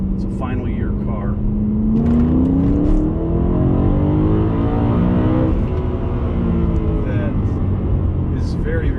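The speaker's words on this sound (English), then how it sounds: "that harmony or symphony of throttle bodies firing off" Final-year BMW M3 in gray black metallic, fitted with individual throttle bodies and Dinan parts, revs with a rising and falling engine note, loud and close, while someone talks over it.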